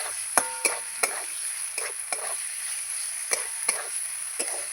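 Pointed gourd (potol) being stirred with spices in a pan on the stove, a spatula scraping and tapping the pan in about a dozen sharp, evenly spaced strokes over a steady frying hiss, close up and without talk.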